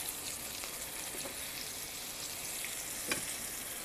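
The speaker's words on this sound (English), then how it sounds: "It's almost like a deep frying." Zucchini slices fry in shallow oil with a constant dense crackling sizzle, fairly close, broken by a soft utensil tap near the end, with no talking.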